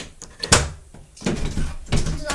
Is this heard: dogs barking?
no